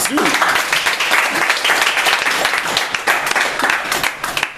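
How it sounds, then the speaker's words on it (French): Church congregation applauding and clapping steadily throughout, a dense close wash of claps with voices mixed in beneath. "C'est pas quelque chose pour applaudir à Jésus."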